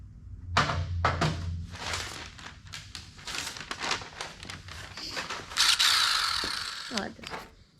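A ratchet wrench with a 12 mm socket tightens a bolt, giving rapid clicking pawl bursts in several close runs, mixed with metallic clunks and handling noise.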